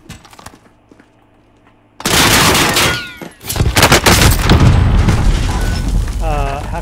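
Call of Duty: Warzone battle: after a quiet stretch, a loud close explosion booms, then bursts of gunfire crackle on amid the rumble, with a voice briefly heard in the mix.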